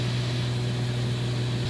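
Steady, loud drone of a 1979 Cessna 182Q single-engine propeller airplane in flight, heard from inside the cabin as a constant hum with no change in pitch or level.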